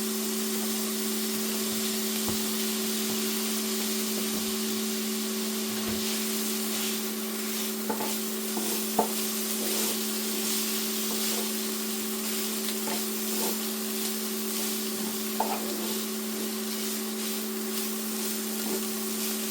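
Mushrooms and peppers frying in a pan: a steady, close sizzle with a constant hum throughout, broken by occasional light scrapes and clicks as the vegetables are stirred.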